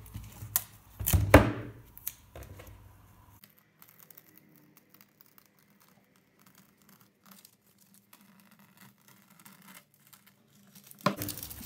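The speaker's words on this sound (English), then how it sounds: "Okay, so let's take off my tape." Tape peeled off the edges of an acrylic pour painting makes brief tearing and crinkling sounds in a burst at the start, then near silence, then another short rip at the end.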